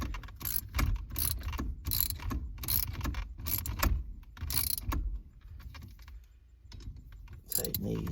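Ratchet fitted with a half-inch socket tightening the bolts on a replaced ignition switch, giving repeated bursts of quick clicking, close and fairly loud, with brief pauses between strokes.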